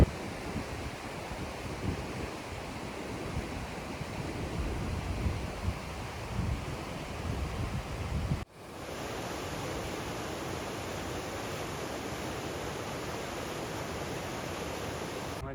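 A rushing, fast-flowing river, likely the San Joaquin River on the Pacific Crest Trail near Muir Pass, roars as a steady broadband wash, loud and close, with no one talking.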